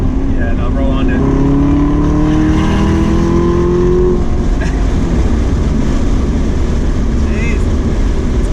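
A Chevrolet Camaro ZL1 pulls hard in third gear, its loud engine note rising steadily in pitch for a few seconds and then dropping into a steady roar, close and continuous, with people talking over it.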